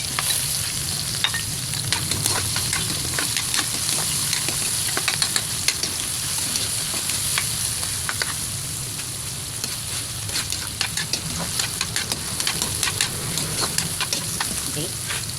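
Onion and garlic sauté in a hot pan as the base for chicken tinola, a steady close sizzle and crackle with stirring scrapes running throughout, no talk over it.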